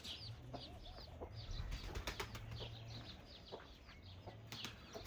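Pigeons flapping their wings in a loft, repeated fluttery wingbeat bursts mixed with faint cooing and bird calls, low-level and fairly close.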